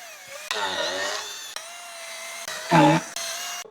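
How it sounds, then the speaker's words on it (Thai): An OSUKA OCHD800 cordless 3-mode drill bores screw holes while building a house, its motor whining steadily in several short bursts with pitch shifts as the bit bites into the material. "อันดับแรกนะครับเดี๋ยวผมจะเจาะรูสำหรับยึดสกรูก่อนนะครับ"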